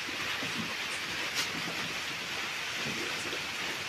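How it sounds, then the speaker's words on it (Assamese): Heavy rain pours down steadily in a continuous dense hiss with no pauses, heard outdoors in a field setting, and no voices are present. "এই বঢ়িয়া বৰষুণ আহি আছে"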